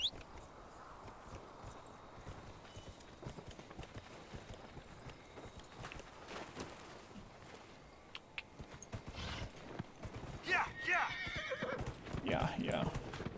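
Horse neighing and hoofbeats in a video game, a whinny rising out of the game sounds near the end, with clip-clopping steps throughout and a voice talking at points.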